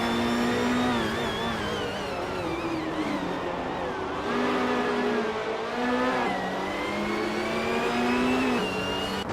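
A Lancia Stratos HF rally car in a racing game revs hard and steadily. Its engine note climbs and drops with each gear change across several shifts, loud and close throughout.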